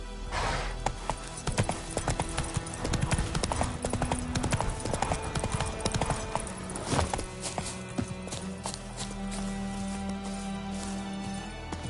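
Horse hooves clip-clop steadily on the ground in the video game The Witcher 3, a continuous walking rhythm of close, crisp hoofbeats over a faint game ambience.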